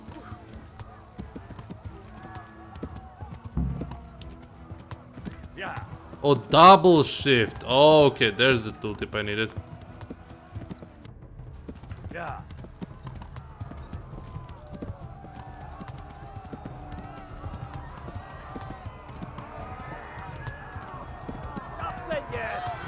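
Horse hooves clip-clop at a steady walking rhythm while riding in the video game Kingdom Come Deliverance, with a brief burst of louder clatter and a whinny early on and someone talking over the hoofbeats.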